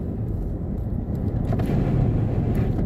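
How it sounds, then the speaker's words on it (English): A small four-cylinder car fitted with a loud aftermarket muffler drives by, a steady low rumbling drone that swells louder over about three seconds as it passes nearby, with no talking. "these guys with these mufflers, they just sound stupid."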